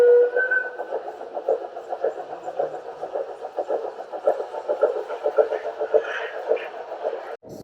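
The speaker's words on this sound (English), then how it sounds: "They have a choo-choo train." A toy train runs along a ceiling-mounted track in a gift shop, giving a steady rhythmic clatter that stays fairly even throughout, with background voices mixed in.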